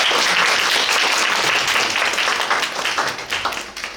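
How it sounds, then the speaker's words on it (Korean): An audience at a university graduate political science admissions information session applauds for the professors and department head, with loud, dense clapping that holds steady and then tapers off toward the end. "교수 선생님하고 학과장 선생님한테 한 박수 한번"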